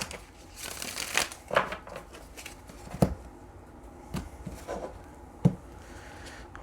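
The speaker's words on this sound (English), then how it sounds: "let's do one more shuffle and see what the tarot adds" Tarot cards being shuffled by hand in a series of crisp riffles and slaps, with distinct louder snaps near three and five and a half seconds, close and fairly quiet against a soft room background.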